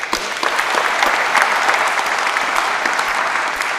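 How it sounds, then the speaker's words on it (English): Applause from the audience at a Rotary sports awards ceremony, a steady wash of many hands clapping that holds evenly throughout, fairly close and full. "Big round of applause."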